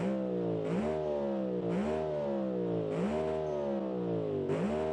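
AI-built V8 drag car in BeamNG, running without exhaust, revs up in four steady cycles of rising pitch and sharp drop-off, somewhat quieter and smoother than a human-built build, with no voices.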